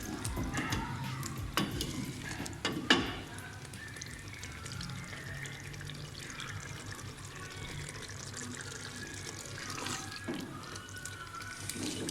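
Black chickpeas stirred and roasted in oil in a pan, a steady soft sizzle running throughout with scraping stir strokes and a few louder clunks near the start.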